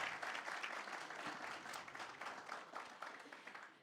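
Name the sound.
audience applause for young talent show participants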